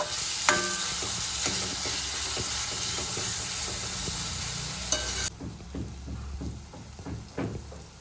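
Chopped tomatoes cook in a hot pan for dhaba-style dal fry, a loud, steady sizzle and hiss with light stirring scrapes. The frying noise drops suddenly partway through, then crackles on more quietly.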